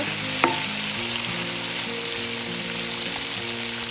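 Chicken pieces sizzle in a pan while being fried for butter chicken, a loud, even crackle with a low steady hum beneath and one brief knock early on.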